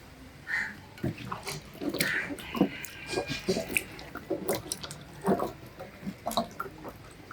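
Tomatoes are rinsed under running water nearby, with irregular splashes, drips and handling knocks rising and falling in short bursts.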